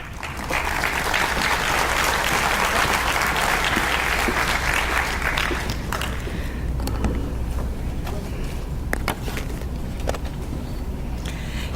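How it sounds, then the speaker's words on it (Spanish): An audience at an academic plenary session breaks into sustained applause to welcome speaker Gisela Cabrejo, loud and dense at first, then thinning into scattered claps and light crowd noise. "Con ustedes entonces, Gisela Cabrejo, para quien solicito grandes aplausos."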